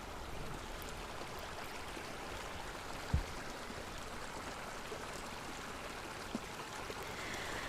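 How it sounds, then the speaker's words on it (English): A gentle stream flows steadily and quietly, with a soft continuous trickle and a couple of faint drips or splashes. "The sounds of water are very special to me,"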